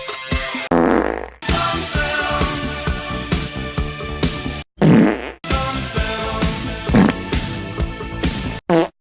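Fart sound effects from the game Farts on Film, a long loud run of squeaky, buzzing blasts of varying pitch and length with brief gaps between them.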